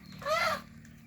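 One short call from chickens kept in a yard near a house, a brief, moderately faint squawk with quiet surroundings before and after.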